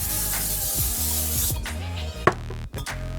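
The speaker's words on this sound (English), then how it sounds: "Spray the pan really well." Cooking spray hisses steadily onto a baking pan being greased for mac and cheese for about a second and a half, close and clear, followed by light clatter from the pan.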